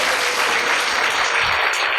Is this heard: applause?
yes